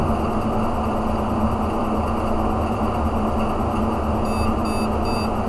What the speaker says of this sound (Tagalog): nag-beep siya mga guys